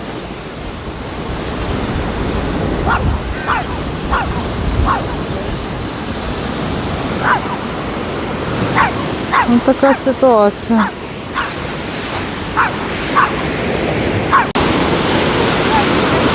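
Steady broadband wash of sea surf on the shore at Chaika beach fills the whole stretch, with a person talking over it and a dog barking briefly partway through.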